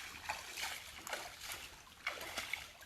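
Footsteps splash through shallow, slow creek water, several soft sloshing steps at an uneven walking pace, close by and quiet, with no talking over them.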